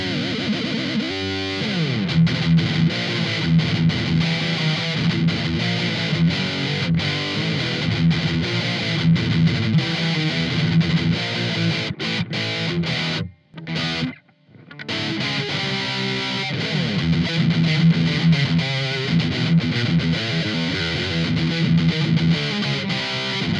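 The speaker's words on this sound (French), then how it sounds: "On va commencer par la distorsion parce que j'ai envie de faire du bruit." Distorted electric guitar playing riffs, thick and saturated with chugging palm-muted notes and sustained chords, loud and continuous apart from a brief stop near the middle, with no voices.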